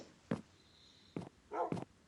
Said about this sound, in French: C'était peut-être juste un de mes chiens.